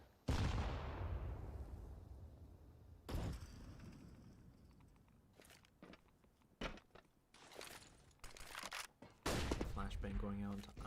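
Gunfire in the video game CS:GO, with sharp shots and short bursts cracking out at irregular intervals, some loud and echoing, others quicker and lighter, amid game noise.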